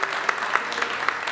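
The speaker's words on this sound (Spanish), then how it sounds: "dele un aplauso al Rey bendito" A church congregation applauds during a sermon, a brief steady burst of clapping from many hands with a few sharper claps standing out.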